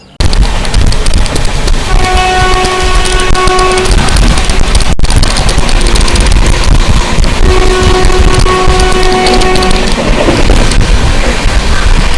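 An IRCTC Tejas Express thunders past at close range with loud, continuous rail roar and clattering wheels, and its horn sounds twice in sustained blasts.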